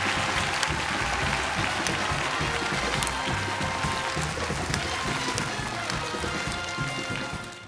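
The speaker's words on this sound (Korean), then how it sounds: "박수! 박수! 박수!" Studio audience applause at a Korean TV comedy magic act, a dense, steady wash of clapping that runs loud throughout and tapers slightly near the end, with no voices over it.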